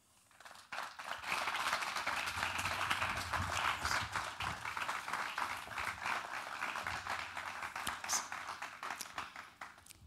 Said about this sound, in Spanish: os invito a darle un gran aplauso y darle la bienvenida a Yolanda.